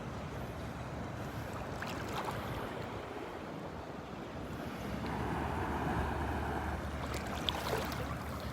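Ocean waves wash continuously at a beach at Delnor-Wiggins, a steady broadband roar of surf that swells slightly midway, with wind buffeting the microphone and no talk.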